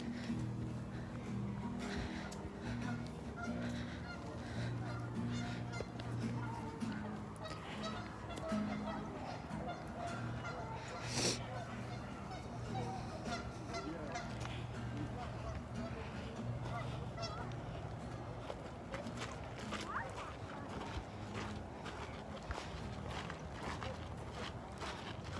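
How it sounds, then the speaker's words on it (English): Geese bathing in shallow water honk repeatedly on an outdoor nature walk, with scattered calls and splashing over a soft background, and people talk quietly at times. "the geese are giving themselves baths"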